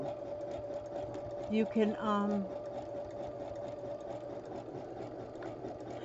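A sewing machine running steadily as it stitches a scrappy crumb quilt square from corner to corner, a continuous close mechanical hum and rapid needle chatter, with someone briefly speaking over it.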